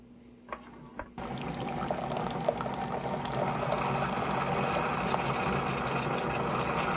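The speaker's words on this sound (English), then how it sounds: "So her coffee did come out very strong and super dark, almost muddy-like at first when it was coming out of the machine into this." Hot coffee from a coffee machine pours into a tumbler, a steady liquid stream that starts abruptly after a couple of faint clicks and runs continuously, close and fairly loud.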